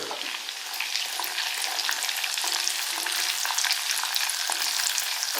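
Ginger and garlic fry in a pan with a steady, close crackling sizzle and occasional stirring scrapes running throughout, with no voices.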